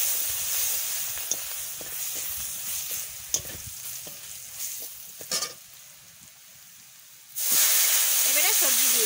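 Garlic fries in hot oil with a steady, loud sizzle and hiss. A few clinks and stirs break in before the frying suddenly surges louder near the end, along with a faint wavering sound.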